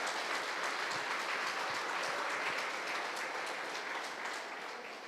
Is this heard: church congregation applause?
yes